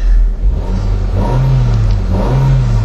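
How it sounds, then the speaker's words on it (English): A Ford Focus with a factory-fitted LPG system is blipped twice in quick succession, each rev rising and falling over a low, steady idle, recorded up close. "Engine sounds absolutely sweet."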